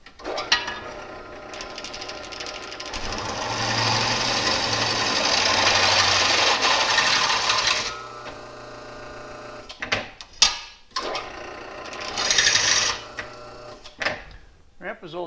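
An old drill press whirs steadily for several seconds as it bores a hole, then winds down, followed by a few clunks and a brief second burst; its belt is loose.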